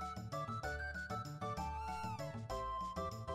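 A cat meows repeatedly in the Chrono Trigger video game, heard over steady, bright game music with no talking.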